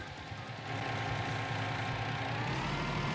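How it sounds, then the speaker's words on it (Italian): A Scania truck engine in Farming Simulator 19 turns over and settles into a steady, loud idle rumble with no one speaking. "Mettiamo in moto il nostro Scania"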